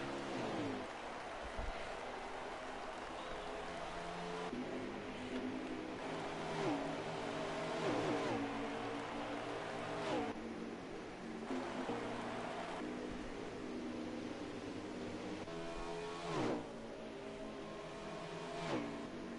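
Race cars at the Cobra Iowa Cup, a night race on an oval track, roar steadily as they power off the corners, engine pitch repeatedly swelling and sweeping, sustained and moderately distant, with a commentator talking over the noise.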